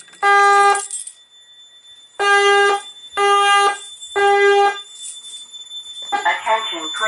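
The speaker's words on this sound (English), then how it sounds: "notice the strobes go off first because it takes a second for the relay to kick in on the voice evacuation panel." A fire alarm from a voice evacuation panel sounds four loud, tonal horn blasts in a slow temporal pattern with pauses between them, followed by a voice announcement from the panel.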